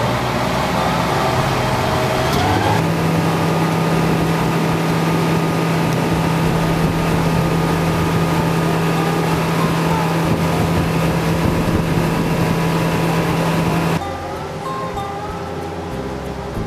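Boat engine running steadily on a bayou during a Honey Island Swamp tour, a loud continuous motor drone with wind buffeting, shifting pitch partway through before dropping off near the end.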